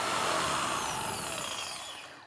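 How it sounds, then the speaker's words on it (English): Power drill bores a 1 inch hole in 3/4 inch plywood, a loud continuous whirring grind that slowly fades toward the end. "To make the slot for the nut, I first drilled a 1 inch hole."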